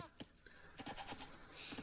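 Sheep bleating in the video game Age of Empires, a few short bleats rising and falling over quiet game ambience, close and moderately clear.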